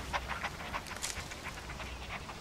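Dogs pant close by in quick, rhythmic breathy bursts that repeat throughout, fairly soft and without talking.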